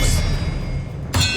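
An Expelliarmus spell strikes in the Hogwarts Legacy video game, with a bright metallic clang at the start and another sharp ringing hit near the end over a low, steady game rumble.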